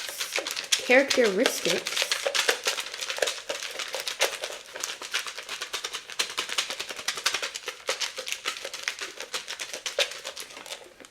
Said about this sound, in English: I think that's good and shuffled.